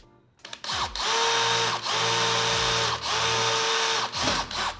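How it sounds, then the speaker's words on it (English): A power drill with a 1/8 inch bit bores a pilot hole in a steel wall-mount stair handrail, whining loudly and steadily in three long sustained runs with brief pitch drops between them, close up. "we're gonna use a drill bit in order to do a pilot hole to make it a lot easier"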